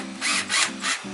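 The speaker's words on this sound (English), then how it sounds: "I'm just going to take my drill" A power drill spins in three short bursts while tightening nuts during a Lowrance Ghost trolling motor install, each whir rising and falling, loud and close with brief pauses between.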